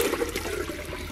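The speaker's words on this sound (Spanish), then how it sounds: "obviamente va a entrar primero poco de agua" Water pouring into a metal bucket of slaked lime paste, a steady close gurgling flow with sloshing, heard alone without talk.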